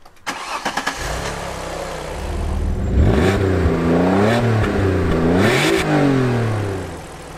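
An Alfa Romeo 156 GTA Sportwagon's Busso V6 engine starts and revs repeatedly, rising and falling in pitch, loud and close, with no voices.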